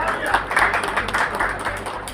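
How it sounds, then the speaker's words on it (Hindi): Applause rises for a guest welcomed at a national conference in Khaga, a steady wash of clapping from a hall audience with a low hum running beneath it. "एक बार जोरदार तालियों से इनका स्वागत कीजिए"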